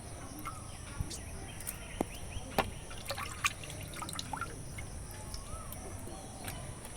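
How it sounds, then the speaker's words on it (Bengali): Fish rinsed with water, faint irregular splashes and drips with a few sharper trickles, quiet against a hissy room background. "আবার একটু ধুয়ে নিচ্ছি, একটু জল দিয়ে নিচ্ছি ভালো করে।"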